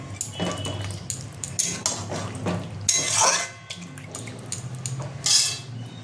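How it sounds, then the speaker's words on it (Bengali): Chicken masala paste is stirred and sautéed in a pan, with repeated scraping and clinking of a utensil against the pan over a low sizzle. Several louder scrapes stand out. "তো এটা আমি ভালো করে কষাবো।"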